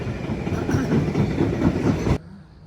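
Freight train passing at night in Pratteln, a loud continuous rumble with rattling clatter of wagons that cuts off abruptly, leaving quieter ambience, with no talk.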